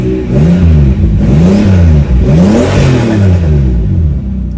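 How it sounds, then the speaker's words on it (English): A Toyota Supra MK4 engine revs up several times in quick succession, loud and close, each rise and fall of the engine note clearly heard with a throaty rumble, no talk. "give it a little rev and see what happens"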